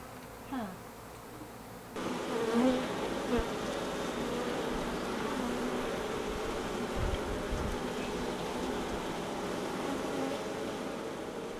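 A colony of wild honey bees buzzes in a dense, continuous drone after its hive is removed, swelling louder after a couple of seconds and holding steady close by.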